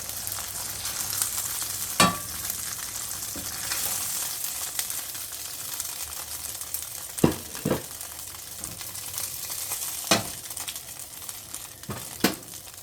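Steak for Swiss steak sizzles steadily in a frying pan, a continuous crackling bed broken by a few sharp utensil clanks against the pan.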